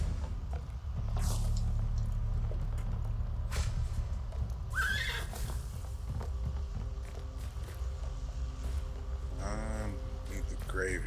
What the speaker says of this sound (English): yes, that is a horse on top of this building